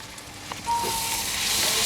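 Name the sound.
garlic, ginger and cumin paste frying in pan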